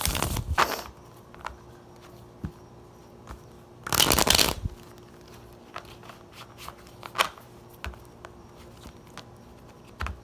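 A traditional tarot card deck being shuffled by hand, with a few sharp riffling bursts and softer card rustles between them, close and quiet with no talking.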